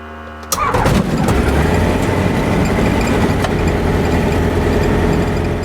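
A 100-horsepower ultralight aircraft engine starting with a sharp catch, then running at a loud, steady roar close by for several seconds.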